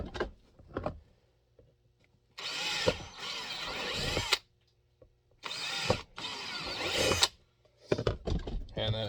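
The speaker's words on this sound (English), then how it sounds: "And drill your retention holes." A power drill bores retention holes through the bezel of a large pistol-mounted light on a Glock 17 holster setup, running in several short close bursts separated by pauses.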